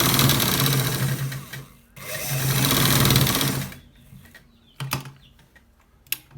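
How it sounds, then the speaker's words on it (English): A sewing machine stitches a front pocket in two loud, rapid bursts of whirring needle clatter, followed by quieter clicks and short handling taps. "So let's stitch it so that you see the results."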